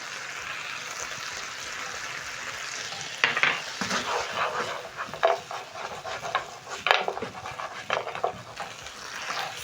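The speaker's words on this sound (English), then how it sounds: "Stir in the sauce in the mutton." Mutton dry-frying in a pan with dark soy and oyster sauce being stirred in: a steady hiss of sizzling, then, after a few seconds, repeated scraping strokes of a utensil through the meat, close and fairly loud.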